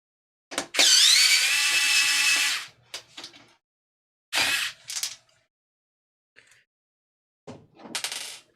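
Computer case side panel fan being unscrewed, with a sustained electric screwdriver whine near the start followed by short clicks, clatter and a few brief bursts of the tool, close and with pauses between.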